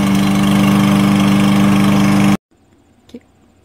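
A Yardworks 150 cc gas lawn mower engine runs at a steady, loud idle, then cuts out abruptly, leaving near silence and a soft click.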